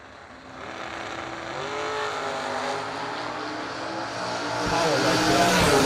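A 1990 Ford Mustang drag race car accelerates hard down the strip, its engine note rising in pitch and loudness through the gears, loud and close, with a deeper surge of power near the end.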